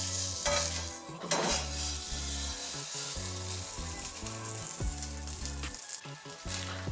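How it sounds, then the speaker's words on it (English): Pork belly searing in a smoking-hot pan gives a loud, steady sizzle and crackle that runs throughout, with rhythmic scraping and stirring knocks against the pan underneath. "Our pan's starting to smoke, so it's time to put our pork belly in."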